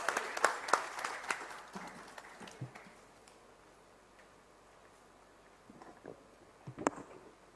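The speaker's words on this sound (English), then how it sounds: "huge round of applause for Dr. Sangeeta Reddy" Applause from the audience at a healthcare summit, a burst of scattered clapping that fades to near quiet, with a few isolated claps near the end.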